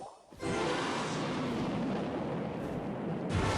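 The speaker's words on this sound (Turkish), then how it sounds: "Ben burada roketi atacağım" A rocket spell launched in a mobile strategy game gives a loud, sustained roaring whoosh-explosion lasting about three seconds, with a brief dip near the end.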